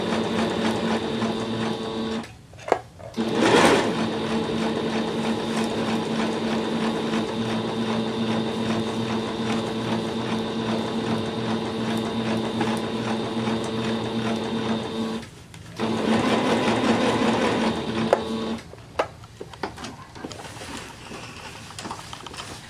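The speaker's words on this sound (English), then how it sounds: "I'm just gonna hit my release button. And I'm going to run my stitch all the way up." A sewing machine runs a long stitch up a dress overlay, a steady loud mechanical whir with a few short pauses and restarts.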